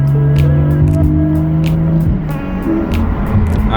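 A BMW driving on the road, heard from inside the car: a loud, steady engine drone with shifting tones and rhythmic thumps passing beneath it, and no talking.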